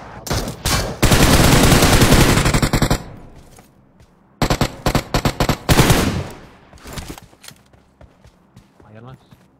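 Video game gunfire shootout with long bursts of rapid automatic fire and scattered single shots, loud and close, separated by a quieter pause, with faint game sounds between volleys.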